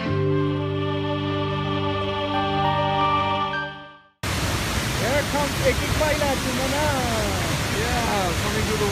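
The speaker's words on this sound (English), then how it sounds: "Yeah, coming to the waterfall." A roaring waterfall surges in as a loud, continuous wash of rushing water after a brief stretch of music, with voices faintly audible under the roar.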